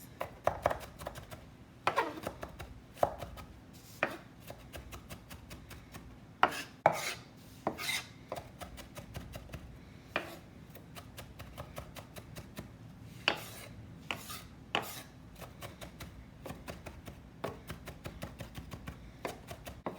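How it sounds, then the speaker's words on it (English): Fresh parsley being chopped into a fine mince on a cutting board, with a steady run of sharp knife taps that come close together and repeat in irregular bursts, close-up and quiet with no talk. "then I bring my parsley right in here and then just chop it together"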